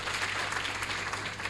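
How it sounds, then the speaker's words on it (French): An audience at a graduation ceremony applauds parents and teachers, a continuous even patter of many hands clapping with a steady low hum underneath. "Veuillez applaudir pour vos parents"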